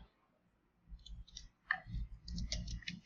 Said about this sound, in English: you'll click on Customer Login